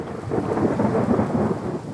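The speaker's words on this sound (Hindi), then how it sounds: "हे भगवान, लगता है बारिश होगी।" A low rumble of thunder rolls under rain in an animated cartoon storm, a steady, fairly loud sustained roar for about two seconds with no talking.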